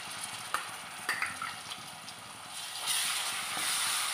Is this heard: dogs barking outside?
no